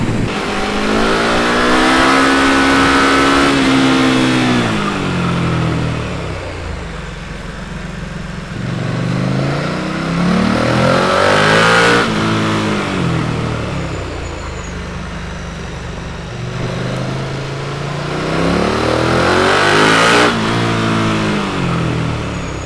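KTM Super Duke 1290 R motorcycle engine accelerating hard through repeated gear pulls, each a rising roar that swells then drops at the shift, loud and close with no talking.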